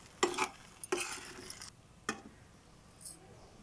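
Ghee is stirred into sweet upma in a pot, heard as a few separate scraping, clattering strokes of a utensil against the cookware, with quiet gaps between them and a faint tick near the end.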